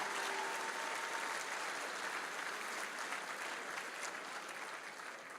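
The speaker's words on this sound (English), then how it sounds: "can we get a big round of applause for all those sponsors?" A crowd at a homebrew awards ceremony applauds its sponsors with dense, continuous clapping that holds steady and then tapers gently, sounding somewhat distant and uniform with no voices breaking through.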